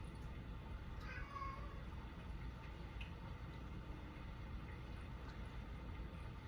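A cat meows in a brief, wavering call near the start, heard faintly over a steady low rumble of background noise, with a few soft clicks scattered after.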